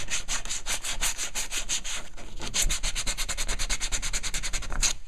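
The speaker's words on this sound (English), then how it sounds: "now, I'm going to deburr these up" Metal edges are deburred by hand while making a shovel-axe bush tool, giving a steady rhythmic rasping of quick strokes, close and fairly quiet, running continuously with no speech.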